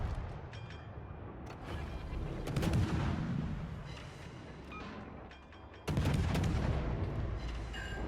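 Heavy naval gun salvos from the Yamato battleship in World of Warships boom out in deep, rumbling blasts, with a second loud volley landing near the end over a constant low battle drone.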